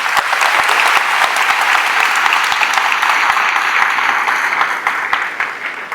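A church congregation applauds during a sermon, a loud, dense wash of clapping from a large crowd that runs unbroken, with some sharper claps standing out at a fairly regular pace.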